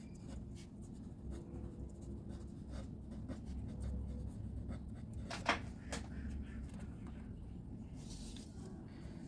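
A pen writing on paper, quiet close scratching strokes in short irregular bursts, faint and steady with a brief louder tap midway and no talk.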